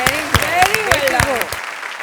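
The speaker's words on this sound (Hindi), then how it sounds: "मैं जोरदार तालियों से आपका अभिवादन करना चाहता हूँ" Applause on a televised startup pitch show for mind-tech headphones, heard as distinct, fairly regular claps under a prominent voice, stopping abruptly partway through.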